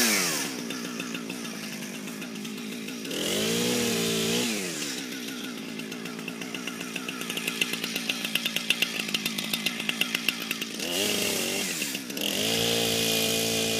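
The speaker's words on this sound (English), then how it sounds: "this is how I start a chainsaw" A chainsaw used for felling a small tree runs at a steady idle, then revs up hard several times in long surges, loud and close, with rattling between revs and no talk.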